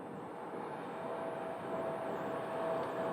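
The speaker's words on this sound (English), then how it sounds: "this towing aircraft is a fairly regular occurrence" A maintenance tug tows an aircraft across the apron at Phoenix Sky Harbor Airport, giving a steady distant engine drone and broad hum that grows slightly louder, with a faint tonal whine on top.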